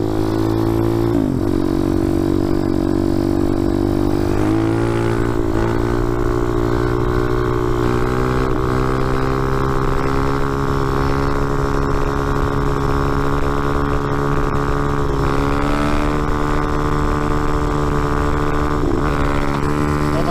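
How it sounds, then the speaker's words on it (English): Motorcycle engine with a freshly swapped carburetor held at steady throttle during a wheelie, a loud continuous drone with strong harmonics and slight pitch shifts, close and alone for about twenty seconds. "I'll do a wheelie anyway, I don't care."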